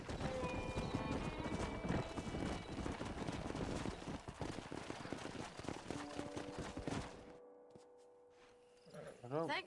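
Hooves clip-clop rapidly from a galloping horse in the Red Dead Redemption 2 video game, loud and continuous with whinnies, under game music and speech, before fading out near the end.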